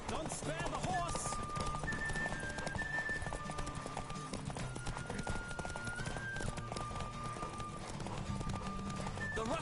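Horse galloping in The Witcher video game, with a steady drumming of hooves under music and in-game chatter, fairly quiet overall.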